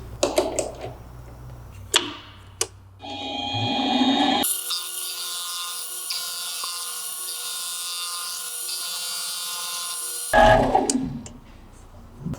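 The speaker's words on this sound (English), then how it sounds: "we're going to use this piece to make the part that the headlight mounts to. We're going to do it on a lathe." A lathe turning a metal piece into a headlight mount, heard as a steady, close mechanical whine with a sustained tone that runs for several seconds between handling clatter at the start and end.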